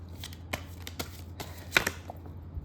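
Tarot cards are shuffled with soft, quick slaps and riffles, scattered taps over a low steady background hum, close and fairly quiet, with no one speaking.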